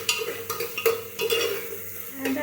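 Onion tossed into a hot pan and stirred, with quick spatula clinks and scrapes over a soft sizzle, close and brief.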